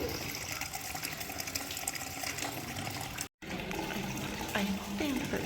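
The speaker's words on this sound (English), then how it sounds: "that over there is the little mini geyser, where that water is actually coming up from the center of the earth right now." Calcium-rich, cloudy spring water flows from a small mini geyser outdoors in a region of France, giving a steady running, splashing wash with a brief gap, while a person speaks over it.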